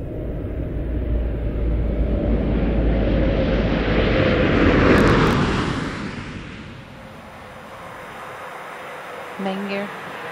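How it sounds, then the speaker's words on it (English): Space Shuttle Discovery coming in to land, a loud rushing roar that builds to a peak and then fades into a lower rumble as the main gear touches down, with faint distant sounds afterward. "Landing gear now down and locked. Main gear touchdown."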